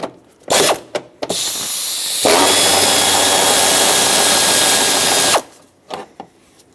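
A power tool whirs for about three seconds as it backs out 13mm fan shroud bolts on a 2003-2009 Dodge Ram 2500 5.7L V8, with a few short clicks and clunks before and after.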